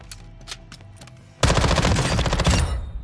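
An SMG in the Call of Duty Warzone firing range rips out a loud, sustained burst of rapid automatic fire after a few faint clicks and handling sounds.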